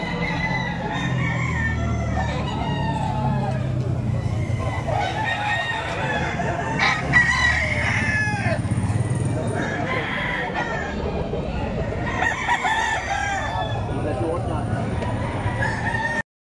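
Bulik gamefowl roosters crow repeatedly at close range in a farm setting, several long cock-a-doodle-doo calls with clucking between them, while someone talks over them.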